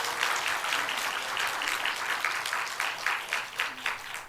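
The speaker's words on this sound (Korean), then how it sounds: "주신 우리 엘레나 교수님께 다시 한번 감사의 박수 부탁드립니다." A church congregation at a Sunday morning service applauds Professor Elena, many hands clapping steadily with individual claps growing more distinct toward the end.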